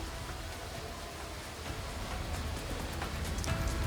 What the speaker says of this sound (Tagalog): tuloy-tuloy ang nararanasan naming pag-ulan dito, partikular dito sa Legazpi City, Albay